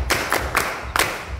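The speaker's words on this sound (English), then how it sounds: "Give her a round of applause." A few sharp, separate claps ring out at a slow uneven pace, about four in a second and a half, close and fairly soft, rather than full audience applause.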